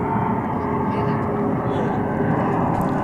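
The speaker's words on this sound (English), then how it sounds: "that Air France flight is about to lift off from" An Air France airliner builds thrust for takeoff from runway 35 Left at DFW Airport, a loud continuous jet roar that holds steady throughout, with a voice talking over it.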